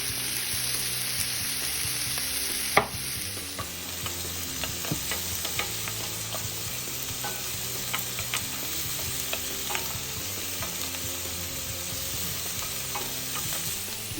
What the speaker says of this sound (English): Now I don't want to waste the steak's oil, so I'm going to throw in red onions inside.